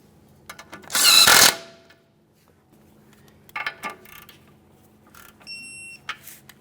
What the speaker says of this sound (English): Start on your outer tie rod end mounting nut. Once you have it started on, snug it up and then torque it to 18 foot-pounds.